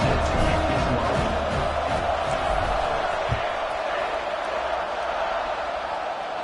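Loud stadium crowd roaring steadily at kickoff of a college football video game against Iowa State, a dense continuous cheer with a brief thump midway, no clear talk over it.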